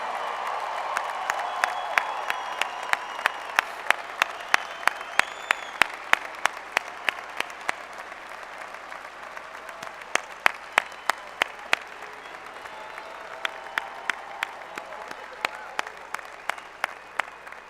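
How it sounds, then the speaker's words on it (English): Audience applauds graduates at the West Virginia University College of Business & Economics commencement, a broad steady wash of clapping with sharp individual claps standing out, sustained throughout at moderate distance. "A louder round of applause for our graduates"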